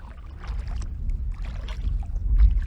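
A canoe paddled across fairly flat water in gusty wind, with soft irregular splashes and dips from the paddle and low rumbling wind noise throughout.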